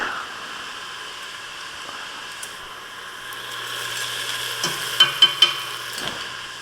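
Garlic frying in a nearly dry pan of beef soup base with black pepper, a soft steady sizzle with a few brief stirring clicks near the end.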